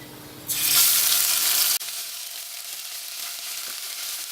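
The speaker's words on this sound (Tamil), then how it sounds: "இஞ்சி பூண்டு விழுது போட்டுக்கலாம்" Ginger garlic paste dropped into hot oil with cardamom for a potato biryani gives a sudden loud sizzle that fades into a steady crackling hiss.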